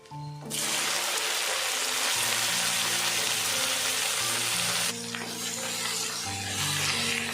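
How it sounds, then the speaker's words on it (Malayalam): Okra, onion and green chili hit hot oil in a pan with a sudden loud, broad sizzle that holds steady and close for several seconds, briefly dipping and swelling as the pan is moved. "വെണ്ടയ്ക്ക ഉള്ളിയും പച്ചമുളകും കൂടെ വഴറ്റാൻ"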